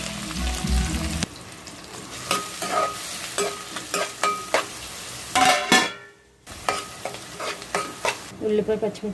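Chopped onion and green chilli fry in two big spoons of hot oil in a home kitchen while cooking a crab curry, sizzling loudly with repeated stirring scrapes, a brief quiet gap, then renewed crackling.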